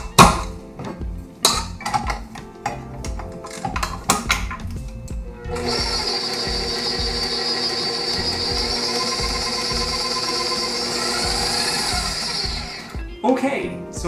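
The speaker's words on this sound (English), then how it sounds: "I'm gonna mix this up." Carrot muffin batter with sugar and cinnamon being mixed in a bowl. Clinks and talk come first, then a steady whirring runs for about seven seconds before stopping.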